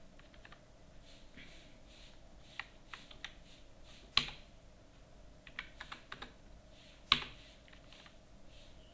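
Typing on a computer keyboard during invoice data entry: quiet, irregular key taps in small bursts, with a couple of sharper, louder keystrokes standing out, close up and without talk.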